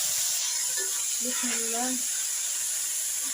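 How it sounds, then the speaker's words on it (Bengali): Onion paste hits hot oil in a pan and sizzles, a steady bright hiss running throughout while a voice speaks briefly partway in. "এই তেলের মধ্যে এখন পেঁয়াজ বাটাগুলো দিয়ে দিব।"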